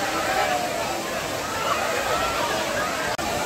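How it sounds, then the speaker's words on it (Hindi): The main waterfall at Kempty Falls in Mussoorie, a popular summer tourist spot, roars as a loud, continuous wash of falling water close by, with voices mixed into the steady rush. "यही यहाँ का मेन झरना है"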